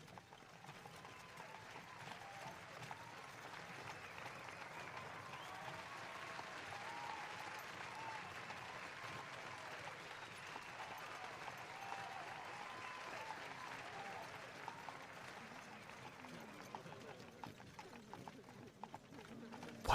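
A distant, faint crowd cheers and applauds continuously as a royal procession nears a city, with horse hooves clip-clopping underneath and a murmur of voices throughout.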